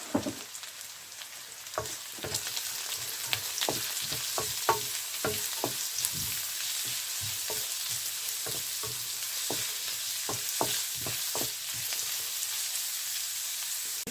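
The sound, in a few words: sautéing onion, leeks and cabbage for fried rice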